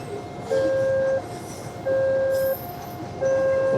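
Freight train carrying coal with no passenger cars, passing near Lahat on the way to Palembang; loud steady rumble with three repeated long horn blasts evenly spaced, no talking.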